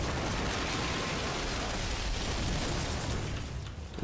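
Dense, continuous roaring blasts from explosions in the video game Lost Planet: Extreme Condition, a loud sustained rumble with crackling bursts that hold steady throughout before dipping slightly at the end; no talk.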